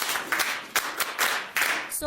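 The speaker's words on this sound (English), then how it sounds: "Let's clap for her." Clapping for a schoolgirl at a rural school in Kupeliga, Ghana: a brief burst of group hand claps in uneven surges, fairly close, ending abruptly as a voice begins.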